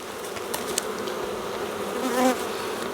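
Steady buzzing of many honeybees during a hive inspection fills the clip, a continuous insect hum with a few individuals droning closer past the listener.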